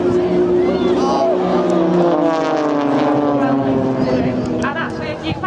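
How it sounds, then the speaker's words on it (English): Blades display team aircraft roar continuously as they fly directly towards the crowd at Shoreham Airshow, a loud engine drone with a shifting pitch under an announcer's commentary. "Now the guys, they're flying directly towards us."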